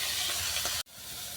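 Shrimp and yardlong beans fry in a pan as tomato goes in, a steady loud hiss and sizzle that cuts out abruptly near the end and then resumes more quietly.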